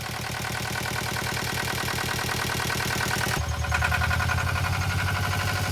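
A yacht's boat engine runs steadily with its cooling water fed straight from a bucket, bypassing a faulty water filter. It gives a loud, close, rhythmic throb that shifts to a rougher, deeper note partway through.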